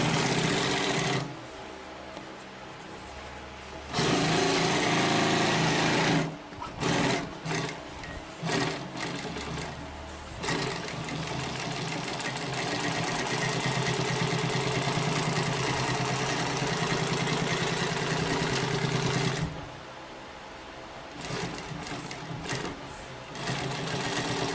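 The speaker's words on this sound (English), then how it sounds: "if you need something to sew this thick, the Premier P1541S" A Consew Premier P1541S industrial sewing machine stitching through a thick stack of about 16 layers, loud rapid needle-stroke hammering in long runs, broken by short pauses and a few stop-start bursts, close and with no talking.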